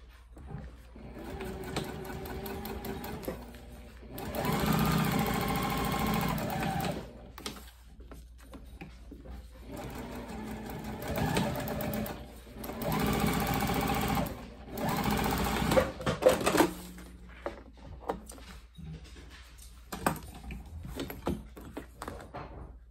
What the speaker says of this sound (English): we're just gonna sew from here to this point. So from straight edge to straight edge right there on both sides